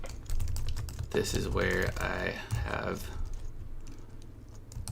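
Keyboard typing on a computer while setting up a WordPress travel blog, a run of light clicks mixed under someone talking over most of the clip.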